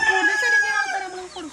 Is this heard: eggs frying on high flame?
no